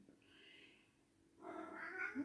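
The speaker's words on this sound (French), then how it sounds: "mon chat qui miaule" A cat meows twice, first a thin drawn-out cry, then a louder, fuller meow, close by in a quiet room.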